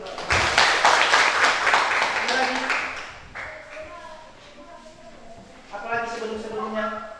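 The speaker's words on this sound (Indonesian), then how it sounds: "tepuk tangan dulu." Students in an Indonesian classroom clap together for about three seconds, a dense burst of hand claps, and then a person starts talking.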